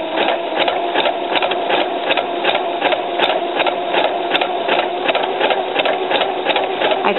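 A sewing machine runs steadily through a satin stitch on fabric for a pair of lettuce leaf shorts, giving a fast, even mechanical whir with a regular rapid rhythm, close and loud with no talking.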